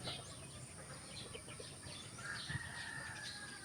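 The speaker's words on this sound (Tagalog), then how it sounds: "Huni na mga ibon. Yun yung mga ibon." Birds in the trees of a rural neighbourhood chirp faintly and intermittently, with scattered high calls over a soft outdoor background. One call sounds like distant poultry.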